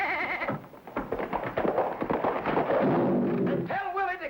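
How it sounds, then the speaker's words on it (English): A goat bleats in a 1950s family sitcom scene: a wavering, nasal cry comes near the end, with a person speaking just before it. "get rid of that goat"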